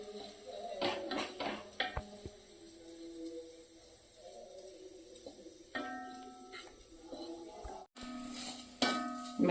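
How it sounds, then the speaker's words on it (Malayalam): A spoon scrapes and knocks against a hot cheenachatti pan as grated coconut roasts, quiet irregular metallic clinks and stirring scrapes spread through the clip, with a low hum behind. "തേങ്ങ നമ്മൾ വറുത്തുകൊണ്ടിരിക്കുകയാണ്."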